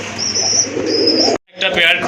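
Satin pigeons coo close by in a loose series of soft, throaty calls, with a brief gap of silence before busier cooing and flutter resume.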